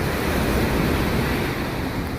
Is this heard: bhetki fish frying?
no